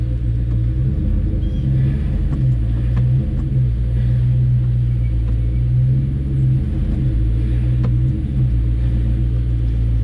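A lowered car's engine rumbles steadily as it creeps up race ramps in gear, a loud, close low drone with slight swells in pitch and no talk.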